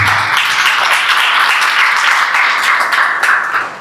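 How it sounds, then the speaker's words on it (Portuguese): A church congregation breaks into sustained applause, a dense, even wash of many hands clapping together for several seconds before tapering slightly at the end. "Você pode aplaudir Jesus?"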